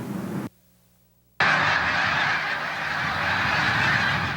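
Geese honk in a loud, continuous flock chorus that cuts in after a brief silent gap, many overlapping calls close by and sustained to the end.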